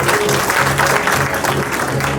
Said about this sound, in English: Can we have a big round of applause for Shivan?